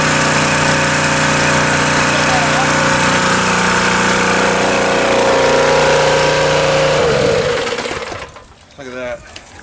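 A pressure washer engine drones loudly and steadily at close range while an engine bay of a Mazda is washed, then cuts off abruptly near the end, leaving quieter clatter.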